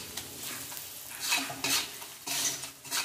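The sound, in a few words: stirring and sautéing spice masala with salt and turmeric in a pan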